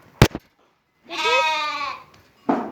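A single drawn-out bleat from a lamb with an injured leg, close and clear, lasting about a second, framed by brief thumps and a rustling noise.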